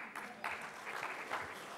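Audience at an investors summit in Punjab applauds, a faint, distant patter of clapping that swells in a few soft bursts.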